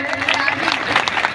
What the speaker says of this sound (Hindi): एक बार जोरदार ताली बजाएंगे इनके लिए